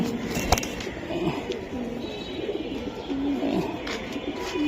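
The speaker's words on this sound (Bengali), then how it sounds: "এই যে ঠোঁটের বাসি কবুতর" Pigeons coo repeatedly at a pigeon market where birds with fine beak markings are being sold, soft rolling calls layered over a busy crowd murmur.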